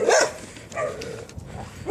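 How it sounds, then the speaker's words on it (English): Boarded dogs barking and yipping at a kennel facility, several loud close barks in bursts over a couple of seconds with a little whining between. "These are the boarded dogs here."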